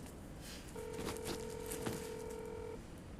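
A telephone gives a single steady electronic tone lasting about two seconds. It stands out over a constant background hiss with a few soft knocks.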